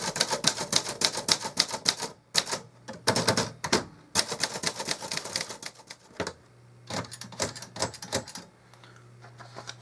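Typing on a 1970 Remington Streamliner II manual typewriter: close, loud bursts of rapid key strikes with short pauses between runs and occasional carriage clunks, no voices.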